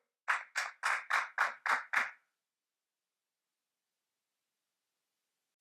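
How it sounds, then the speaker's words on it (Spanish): Applause from a conference audience in a lecture on public administration: seven evenly spaced bursts of clapping over about two seconds, then silence. "Un aplauso y adelante, profesor."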